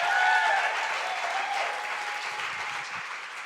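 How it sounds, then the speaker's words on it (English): A live audience applauds Counterfeit Madison in a steady round of clapping that slowly fades, with faint voices and a brief tone in the background. "Please give Counterfeit Madison a big round of applause"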